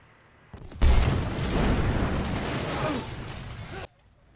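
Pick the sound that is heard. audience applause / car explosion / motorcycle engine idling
car explosion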